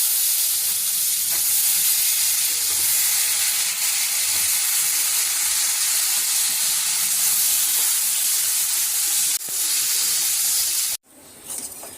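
Sliced raw plantain fries with masala in a pan, giving a steady, loud, close sizzle and hiss for about eleven seconds before it cuts off abruptly.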